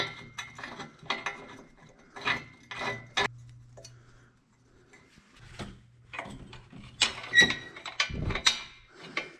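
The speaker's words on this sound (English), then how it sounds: "Now, bolt that back together." A ratchet clicks in quick bursts while bolting an aftermarket Good-Win Racing SuperStreet exhaust back together, with several runs of close, sharp pawl ticks separated by short pauses and a brief low hum.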